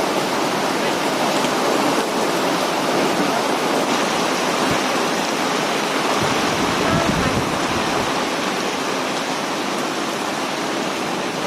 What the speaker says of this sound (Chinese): 现在已经开始下大雨了，狂风暴雨。